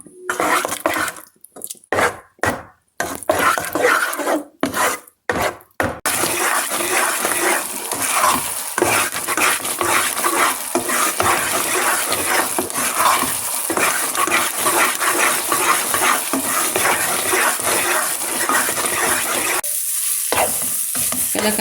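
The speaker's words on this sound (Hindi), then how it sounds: "मुसलसल चम्मच चलाते रहना है। मीडियम आंच पे पकाना है," A spoon stirs kalakand milk mixture in a pan over medium heat, giving a steady scraping and sizzling that runs continuously after a few early clinks and pauses, close and loud with no talk.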